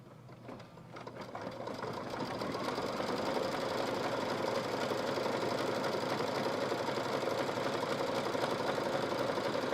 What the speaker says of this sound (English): We'll let it stitch away.